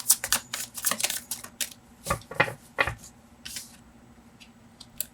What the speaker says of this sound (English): If you wanna fast forward this shuffling